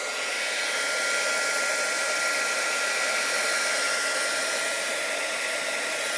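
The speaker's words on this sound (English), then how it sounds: "I'm going to turn my heat gun on, so it might get a little loud" A heat gun blows in a steady, loud, broadband whoosh while shrinking plastic for craft work, holding an even roar throughout with no voices.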